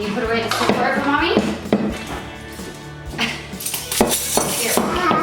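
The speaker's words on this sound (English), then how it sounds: "putting away the silverware in the drawer." Silverware put away into a kitchen drawer, with repeated metallic clinks and clatters in irregular bursts, close by, as a toddler and an adult talk.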